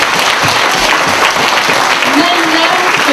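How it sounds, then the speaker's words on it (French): Loud, close, dense applause from an audience at a school ceremony honoring a pupil, steady wash of clapping throughout with a faint voice underneath near the end. "on va applaudir la personne très très fort"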